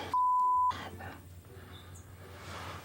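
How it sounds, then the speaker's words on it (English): A single electronic alarm beep holds one steady tone for about half a second, clear and fairly loud against a quiet background, with no voices. "whether that's a beeping noise"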